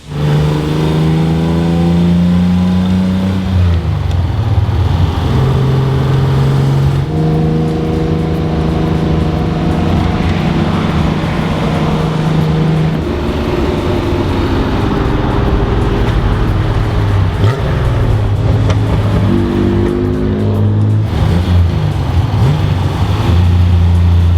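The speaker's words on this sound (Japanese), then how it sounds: "箱スカ壊さないようにね、乗っていこう" A Nissan Skyline Hakosuka's engine pulls away, loud and close. The revs climb and drop several times with shifting tones as it accelerates, with no talk.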